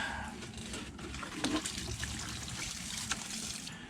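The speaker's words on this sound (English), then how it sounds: "So now let's water it with the fish emulsion." Fish emulsion solution is poured over soil in a raised garden bed, giving a steady, low trickle and splash of liquid that runs for several seconds with a few small spikes.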